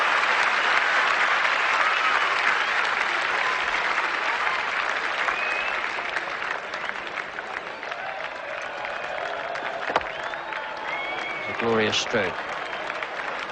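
A cricket crowd applauds and cheers throughout a 1979 Australia vs West Indies Test as Vivian Richards bats: a dense, steady roar of clapping, loud at first and easing slightly, with a commentator talking over it.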